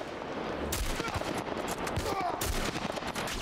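Bursts of gunfire crackle in The Last of Us, with sharp rapid shots in clusters over a noisy game soundscape, moderately loud and mixed with other in-game noise.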